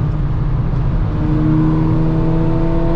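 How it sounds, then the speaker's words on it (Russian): A Lada Priora drives fast along a highway, heard as a loud, steady engine drone and road roar with a rising whine as it holds speed, close and continuous, no talking. "Приора так едет, скорость-то не маленькая для Приоры"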